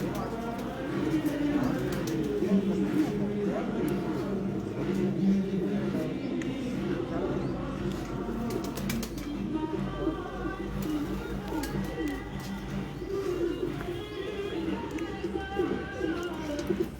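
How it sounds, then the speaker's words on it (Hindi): A large flock of fancier's pigeons cooing steadily in overlapping low murmurs, with occasional clacks and flutters, while someone talks over them throughout. "जिधर जिधर तक कैमरा जा रहा है उधर तक माशाल्लाह कबूतर है।"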